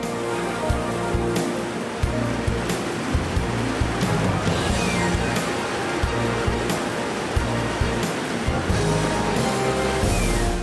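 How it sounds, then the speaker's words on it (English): Roški Slap, a long cascading waterfall on the Krka river in Croatia's karst gorges, rushes in a steady, dense roar of falling water that stays loud and unbroken throughout, with no voices. "Suddenly, the first spectacular waterfall, Roški Slap, appears."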